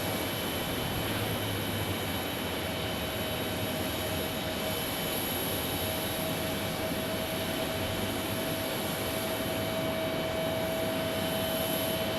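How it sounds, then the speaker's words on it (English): A Delta Airbus A321 airliner at Phoenix Sky Harbor airport gives off a continuous, steady roar of jet engines with a faint high whine, heard at a moderate distance and without voices. "I've got Delta 366 from Atlanta next on an A321."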